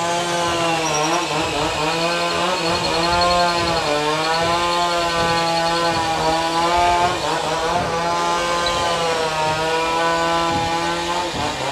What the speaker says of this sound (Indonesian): ada suara mesin chainsaw